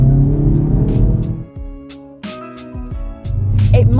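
A hot hatch car accelerates in N mode, its engine rising in a strong revving pitch, dipping briefly between gear changes, then climbing again, heard close and loud under a speaking voice.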